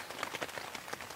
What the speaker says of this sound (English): It was just raining, pretty heavy at times